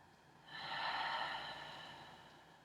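A deep, drawn-out breath during a yin yoga stretch, one long airy exhale swelling after half a second and slowly fading, close and quiet with no talking.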